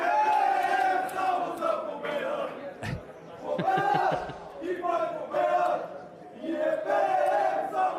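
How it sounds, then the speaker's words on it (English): A crowd at a poker tournament final table in Barcelona chants Bulgarian chants in rhythmic, loud unison bursts, with shouts and cheers swelling and fading across the stretch. "This is one of my favorite Bulgarian chants."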